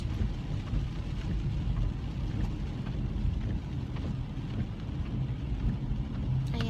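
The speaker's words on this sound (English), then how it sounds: "The rain is really bothering me." Steady rain hitting a car while driving in town traffic, a dense continuous wash of drops and low road rumble throughout, with no voices.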